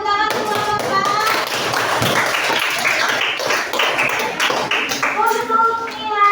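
A junior high Indonesian-language class claps their hands together in a loud, brisk round, with voices speaking just before and after the clapping.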